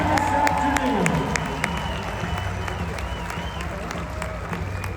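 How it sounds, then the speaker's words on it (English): An outdoor rodeo crowd applauds champion rough stock riders, moderately loud clapping and cheering that tapers gradually, with a voice and whistle-like tones heard early. "How about another big round of applause for your champion rough stock riders here this afternoon."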